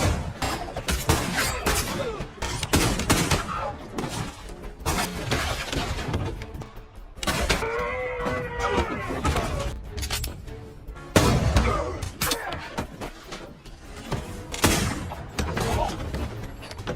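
Gunfire from an ambush in The Magnificent Seven: a loud, dense fusillade of shots and impacts coming from many directions, followed by a brief lull under movie music, then renewed bursts of firing.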